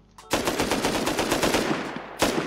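Rapid automatic gunfire from a Rust console gunfight, a loud sustained burst of shots lasting about two seconds, preceded by a brief sharp shot and followed by another loud report at the end.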